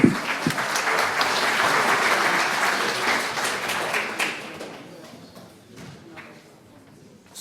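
Audience applause welcoming a speaker to the stage at a talk on dairy cattle nutrition, dense clapping for about four seconds that then thins out and fades to a few scattered claps.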